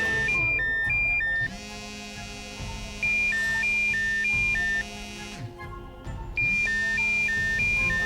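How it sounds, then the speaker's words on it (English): A phone alarm rings in a repeating electronic melody, loud and close, with brief pauses between cycles and no talk over it. "It's your alarm."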